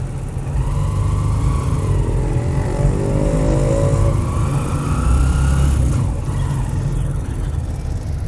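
Steady road traffic with cars and motorcycles passing close by, a continuous loud engine rumble and revving throughout, with no talk.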